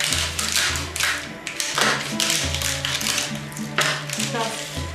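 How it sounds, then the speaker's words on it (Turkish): A knife crunches and scrapes through brittle, dry güllaç pastry sheets, cutting them in a cross shape, in repeated crackly strokes, close up and fairly loud. "Güllaçlarımızı ıslatmadan önce bıçakla artı şeklinde kesiyoruz."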